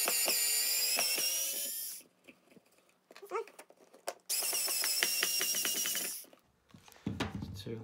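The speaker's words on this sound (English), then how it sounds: "we'll take this electric drill on rewind, on reverse" An electric drill runs in reverse to back a screw out of a floor made from pottery shards: two whining bursts of about two seconds each, with quieter scraping and handling noises between them.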